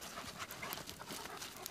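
Wolves in a pack at a wolf education facility, heard as soft panting and faint whimpering sounds with light shuffling, fairly quiet and close, with no talking.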